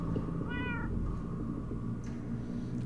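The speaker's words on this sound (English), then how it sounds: "That almost sounds like... cats?" A cat meows once in Minecraft: Story Mode, a short clear mew over a low steady game ambience, followed by faint fainter sounds.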